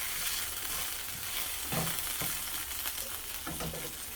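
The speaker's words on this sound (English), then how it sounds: "So let's fry the garlic first." Garlic frying in a pan as the first step of a garlic fried cabbage and mushroom dish, giving a loud, steady close sizzle with a few brief stirring scrapes and no talking.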